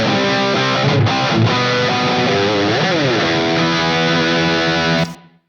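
Heavily distorted, aggressive electric guitar tone from a Quad Cortex preset scene, a sustained chord with a bending note in the middle that rings loud, then cuts off abruptly at the end.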